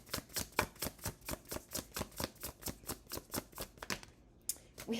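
Rapid riffle shuffling of tarot cards, about twenty quick crisp bursts in a steady rhythm, close and fairly loud, ending with a brief pause and a soft shuffle.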